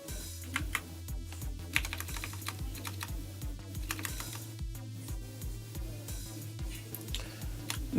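Steady typing on a computer keyboard runs for the whole stretch while an Active Directory lateral-movement exercise is worked through. The keys click in a rapid, fairly even rhythm with no talk, and a beat or other background sound runs underneath.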